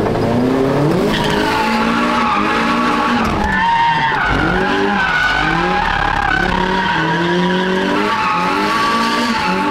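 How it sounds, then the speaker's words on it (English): Car drifting at close range, tires squealing and skidding almost continuously while the engine revs rise and fall with gear changes, loud and unbroken, with no talking. "we can do drift."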